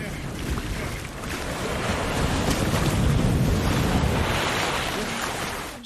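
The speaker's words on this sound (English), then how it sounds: "And these are huge waves" Huge ocean waves from the film Cast Away surge and roar in a loud, continuous wash, swelling toward the middle amid gusting wind over open sea.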